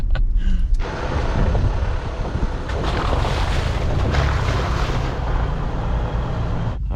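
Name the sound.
Jeep driving through a river crossing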